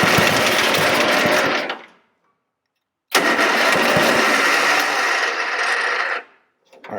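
An old mower or tractor engine cranks and tries to catch, two loud close bursts of rough whirring and sputtering, each a few seconds long, separated by a silent pause and cut off abruptly.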